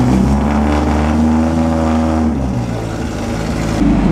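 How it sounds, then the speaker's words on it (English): Vintage Fiat cars, including a double-bubble coupe, drive past during the 2015 Mille Miglia road race, their engines a loud, close, droning growl that holds and then eases as they go by. "How about a Fiat double bubble and another Fiat no bubble?"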